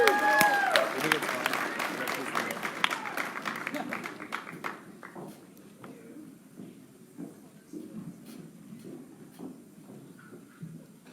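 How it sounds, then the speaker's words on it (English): An audience at a Penn State student talk breaks into dense, crackling applause that holds for about four seconds, then thins into scattered claps and fades as the room quiets. "Let's give her a round of applause."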